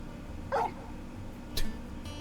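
A dog in Final Fantasy XVI gives two short, separate barks or yips about a second apart, close and moderately loud over a quiet background.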